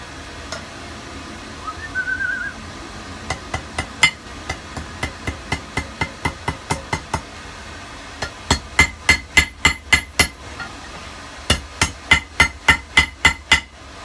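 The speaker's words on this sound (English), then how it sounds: "Let's get back to forging." Hammer blows on hot metal forging a backscratcher, with a charcoal fire nearby: sharp ringing strikes, scattered at first and then in steady quick runs of many hits, close and loud, with no talking.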